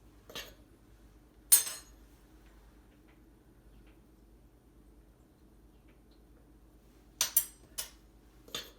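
A quarter-cup measuring cup knocks and clinks against kitchenware while ingredients are measured for pasta, with a few sharp isolated taps spread out over a quiet room and a quick cluster near the end.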